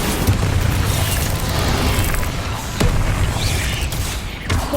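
Spell explosions in the video game Hogwarts Legacy: a continuous roar of loud booming blasts, with sharper bursts and crackles cutting through a dense, rumbling wash.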